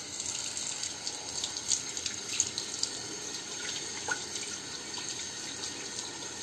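A cleaned, polished kettle rinsed under a running tap, water pouring steadily and close with a bright hiss and occasional splashes.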